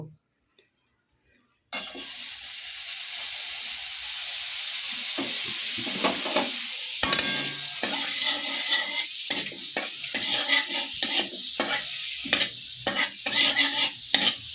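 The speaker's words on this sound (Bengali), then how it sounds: "পনিরটাকে আমি এই বাটার দিয়ে হালকা করে ভেজে নেব" Paneer fries lightly in butter in a pan, a steady close sizzle that starts suddenly after a brief silence, with stirring scrapes and clinks breaking in repeatedly.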